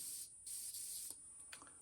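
An airbrush sprays phthalo blue green paint onto a fishing lure for a camo craw pattern, making a quiet, steady hiss broken by a few brief pauses and small handling clicks.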